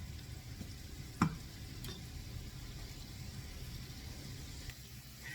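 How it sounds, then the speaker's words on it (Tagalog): Onions sautéing in a pan for ginataang tulingan make a low, steady sizzle with faint stirring scrapes and one sharp tick partway through. "Gisa-gisa sibuyas."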